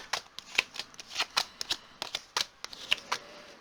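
Tarot cards are shuffled close up, a steady series of quick, crisp riffling flicks and soft slaps in an uneven rhythm, fairly quiet, with no talking.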